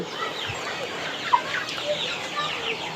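Sonali hybrid chickens about 35 days old and near 900 grams cluck softly on a farm, a few scattered calls with one sharper note standing out over a quiet, steady background.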